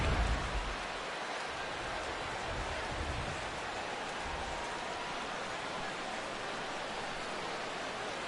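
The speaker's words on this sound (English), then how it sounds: "The rain, as we've mentioned, coming down fairly steadily here at game time." Steady rain falling over a ballpark at game time in the baseball video game MLB The Show 16, a dense, even hiss that continues without a break, with a low rumble near the start.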